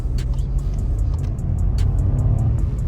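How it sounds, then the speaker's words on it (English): Steady low rumble of a new Volkswagen Polo with a 94-horsepower engine being driven, a constant engine and road drone heard from inside with light ticking clicks above it. "So now driving the Polo"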